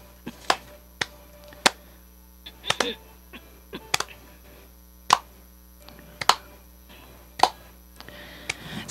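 A studio audience claps along in rhythm as a guest prepares to sing on a Japanese talk program, with sharp, distinct claps spaced unevenly over a low steady hum.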